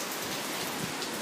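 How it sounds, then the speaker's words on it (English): Heavy rain pours down in windy, stormy weather near the ocean, a dense, even hiss of drops hitting surfaces that stays constant throughout. "It is raining. It is windy."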